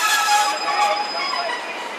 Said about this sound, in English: Also coming in is the 1319 Great Western Railway service to Exmouth